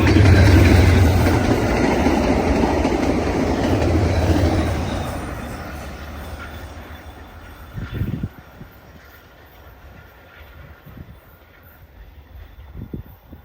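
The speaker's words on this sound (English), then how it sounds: "Now we get into some freight train action." A freight train rumbles loudly past at close range, its steady roar of wheels and cars fading gradually over several seconds, followed by quieter clanks and a few sharp knocks as the last cars recede.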